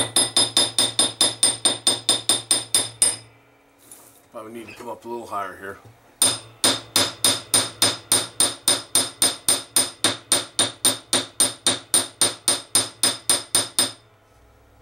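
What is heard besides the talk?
chasing hammer striking metal wire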